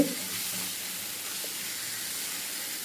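Okra and tomatoes sautéing in a pan give a continuous close sizzle and hiss, steady and fairly loud, with a brief stir-like clatter at the start and no voices.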